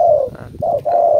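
Caged doves cooing close by, three low, mellow coos in a steady sequence with brief gaps between them, loud and clear with no talking.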